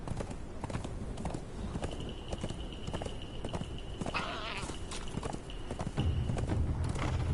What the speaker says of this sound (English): with my deer horse I should be able to get back to where my body is